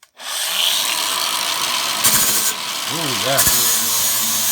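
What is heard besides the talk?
Aldi Ferrex 40V cordless angle grinder grinding with flap disc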